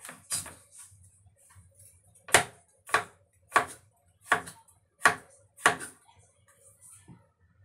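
A knife slices through cucumber on a cutting board, six or seven crisp, evenly spaced chops standing out clearly against a quiet kitchen background.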